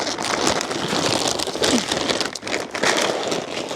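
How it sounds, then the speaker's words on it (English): Loud, close crinkling and rustling of a stiff plastic 50-pound feed bag, continuous and uneven as it is handled, with no voices. "so sorry for the noise of this bag"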